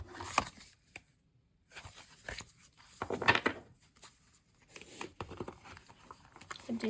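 Cards of an oracle deck shuffled by hand: short papery rustling bursts and light taps come in scattered clusters, close up and fairly quiet, with brief pauses between them.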